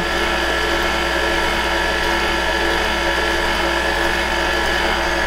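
A KitchenAid stand mixer churns cookie dough, a loud, dense, unbroken mechanical whir and grinding hum that holds steady throughout, close up with no talk.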